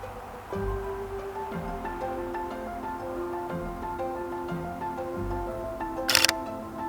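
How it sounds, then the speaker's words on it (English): A single crisp camera shutter click near the end, following a stretch of quiet room tone with a faint steady hum. "Press the shutter."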